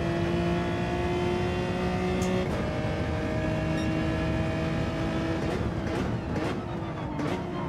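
Race car engine in Gran Turismo 7 sustains a loud steady drone while laps are driven, its pitch shifting through gear changes and revs, with brief higher spikes toward the end.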